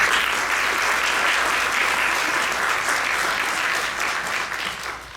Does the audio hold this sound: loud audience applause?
yes